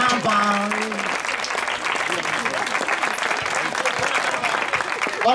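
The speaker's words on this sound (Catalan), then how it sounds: "Un fort aplaudiment" Dense, steady audience applause fills a Saturday outdoor Festa Major town celebration. The clapping is loud and continuous, with crowd voices mixed in and a brief tone near the start.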